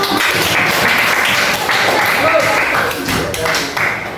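Ninth-grade students in a school session clap their hands together, a loud, dense patter of clapping that continues throughout, with voices mixed in.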